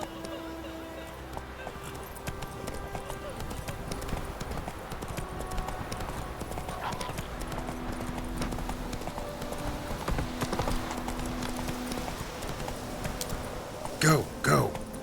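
Geralt's horse Roach in The Witcher 3 clip-clops along at a steady walking rhythm, hooves knocking continuously under game ambience, with a few sharper hits near the end.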